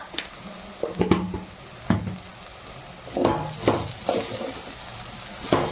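Gongura prawns are stirred in a pan over a low sizzle, a spatula scraping and knocking in irregular close strokes, several in quick clusters, with soft frying hiss underneath.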